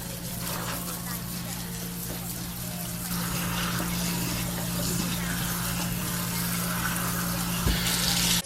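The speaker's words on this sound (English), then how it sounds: "Then rinse several times with cold water." Cold tap water runs and splashes over smoked turkey wings in a colander or bowl, a steady close rush with a low hum underneath and a brief clunk near the end.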